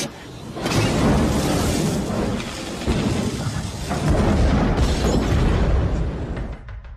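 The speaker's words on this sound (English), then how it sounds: "the real-life mobster Frank Lefty Rosenthal, climbs into his 1983 Eldorado, turns on the ignition, and is engulfed in a fireball." A car bomb erupts into a fireball as the ignition of a 1983 Eldorado is turned, a sustained roaring blast rumbling for several seconds before trailing off, loud and alone.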